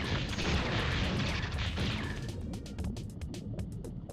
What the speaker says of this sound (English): these turrets need to go because they're gonna start shooting us